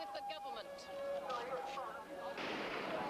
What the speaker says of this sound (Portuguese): uma rajada mais intensa causa pânico